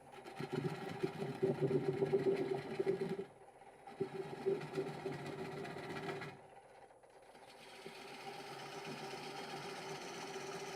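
A wood lathe spins a natural edge bowl at about 460 RPM, a soft motor hum with rough, intermittent cutting noise from the tool that stops twice and then gives way to a quieter steady whir.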